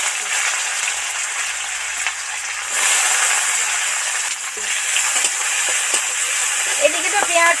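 Chopped onion and spices fry in oil in a pan with a steady, loud sizzle that carries on throughout, with some stirring and light clinks near the end.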